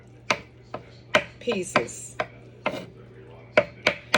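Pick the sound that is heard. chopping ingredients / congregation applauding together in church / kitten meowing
chopping ingredients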